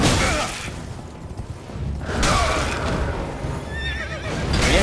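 A horse neighs loudly in the video game Elden Ring, followed by a second whinny and rushing, mechanical game effects, with a last shrill neigh near the end.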